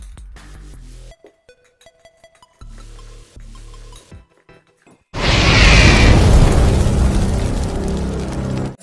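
A mixture of baking soda, powdered sugar and petrol goes off. Sparse musical tones come first, then a sudden loud, sustained roaring burst lasts several seconds before stopping.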